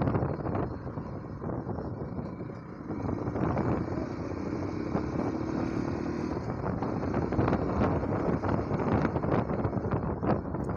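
A motorbike engine at speed, heard from the rider's position wearing a helmet, with a steady droning roar mixed with heavy wind buffeting on the microphone, continuous and fairly loud.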